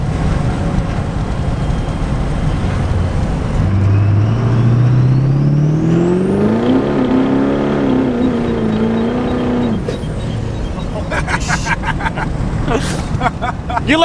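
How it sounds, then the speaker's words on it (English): A truck engine revs and accelerates hard, its rising, loud roar climbing and wavering for several seconds before dropping off into crackling pops and rumble, with no talk heard. "You can feel the whole truck torque."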